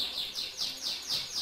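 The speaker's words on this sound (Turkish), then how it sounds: "Yalnız kuşlar çok güzel ötüyor. Bunlar şey ya, kanarya." Canaries sing indoors in a rapid series of high, bright chirping trills that repeat in rhythmic bursts, moderately close and alone with no talk.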